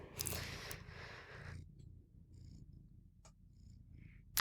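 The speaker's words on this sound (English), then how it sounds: "I wonder if they can hear Milo purring." A small cat purrs close up in a continuous low rumble that starts with louder handling rustle and settles into a steady soft drone, with a few light clicks and scratches, and no talking.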